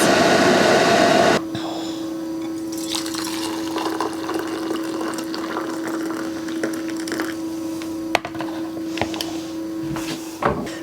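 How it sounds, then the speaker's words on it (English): Water bubbles and churns steadily over a constant electrical hum from a portable power station running a 1200-watt boiler, with a single sharp click partway through. "Boiling water test, definitely successful."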